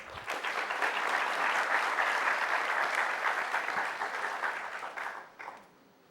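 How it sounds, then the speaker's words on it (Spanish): An audience at a workplace-accidents seminar applauds, a dense, even wash of clapping from a crowd that holds for about five seconds before tapering off quickly into quiet. "Le pido un fuerte aplauso para él."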